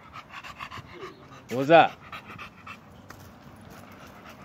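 A small dog pants in quick breathy bursts near the microphone, with someone talking casually around it.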